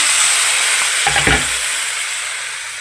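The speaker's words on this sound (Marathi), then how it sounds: "तेलामध्ये जिरे मोहरी घातली जिरे मोहरी घातली की कांदा टाकून घ्यायचा आहे" Onion dropped into hot oil already holding cumin and mustard seeds, giving a steady close sizzle with a brief burst of stirring and spattering in the middle.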